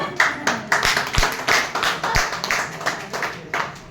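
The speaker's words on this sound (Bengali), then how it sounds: "তাদের জন্য হাততালি" A small audience claps for contestants at a live event, a close, rhythmic burst of hand claps in a quick steady beat with a few sharper slaps.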